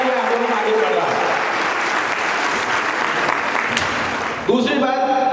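Audience breaks into loud, sustained applause at a Hindi-language gathering, dense clapping filling the room steadily for several seconds before a voice cuts in near the end.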